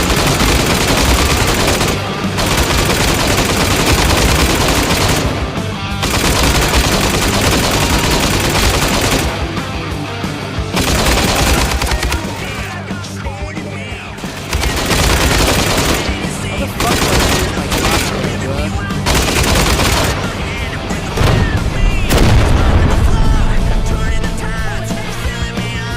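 Video game gunfire rattles in rapid bursts of automatic fire and fusillades, loud and dense, with brief lulls between volleys across the stretch.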